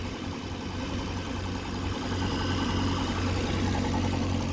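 A car engine idles steadily with a low, even rumble and a slight top-end noise, close and continuous with no talking.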